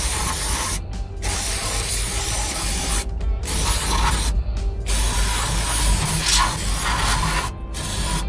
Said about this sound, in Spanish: usamos brake cleaner